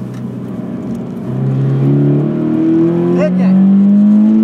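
Car accelerating on a racing circuit at a St-Eustache driving school, engine note rising steadily and growing louder over several seconds while an instructor speaks briefly.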